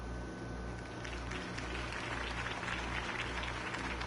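Steady crowd applause in the video game Batman, dense and sustained for the whole stretch, with a low hum underneath and no voices standing out.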